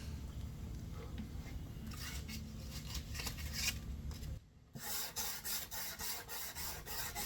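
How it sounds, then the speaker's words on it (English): Sandpaper rubs back and forth along a violin fingerboard in steady, rhythmic rasping strokes, close and quiet, pausing briefly before resuming at a quicker pace. "Then I start sanding."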